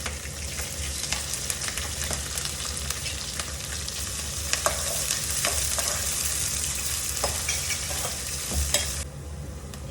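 Chopped onion and green chillies fry in oil for rava upma, a steady close sizzle with scattered scraping and tapping as a spatula stirs the pan, the hiss dropping away just before the end.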